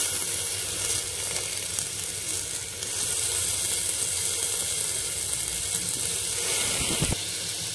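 Chopped tomatoes dropped into chana dal frying in oil give a loud, steady, close sizzle and hiss throughout, with a brief clatter near the end.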